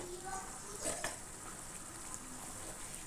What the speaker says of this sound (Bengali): আবার একটু চিকেনটাকে আমি নিচ থেকে ভালো করে নাড়িয়ে নেব।